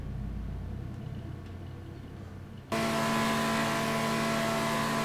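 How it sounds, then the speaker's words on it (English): A car engine in GTA 5 Online holds a steady droning rumble that suddenly jumps louder and brighter partway through, then stays at a constant high level. "I still hear engine noise."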